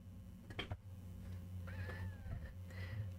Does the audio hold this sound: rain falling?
no